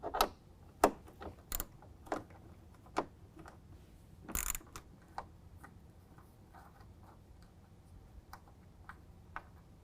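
A fender flare bolt being loosened with a 7 millimeter socket and ratchet: sharp irregular clicks and clacks up close, a brief louder rattling burst midway, then fainter scattered ticks, no talk.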